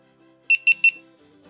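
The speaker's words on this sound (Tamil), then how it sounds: "இந்த லைட் வந்து பீப் வருது, பீப் சவுண்ட்ஸ் வருது, அதுக்கப்புறமா ஆன் ஆகிடுது" A GoPro Hero 13 Black action camera powers on with three short, bright electronic beeps in quick, even succession against a quiet indoor background.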